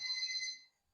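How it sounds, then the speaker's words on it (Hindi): A class timer's alarm beeps briefly, a bright electronic tone ringing for about half a second before cutting off into near silence. "टाइमर खत्म।"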